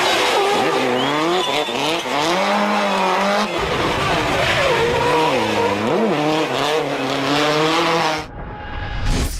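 A 1990s Mazda FD RX-7 driven hard on the street, its rotary engine revving and rising in pitch while the tires squeal loudly and continuously up close, then cutting off abruptly near the end.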